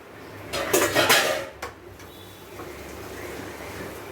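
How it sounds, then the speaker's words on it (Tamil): Boiled boneless chicken is stirred into masala in a metal pan: a second of clanking and scraping of the utensil against the pan, then quiet. "சிக்கன் போட்டு நம்ம கிளறி விட்டுட்டு உப்பு பத்திரம் போட்டுக்கலாம்"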